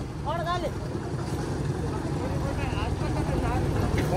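A farm tractor engine runs steadily at night with a continuous low rumble throughout, close and fairly loud, while people talk and call out over it.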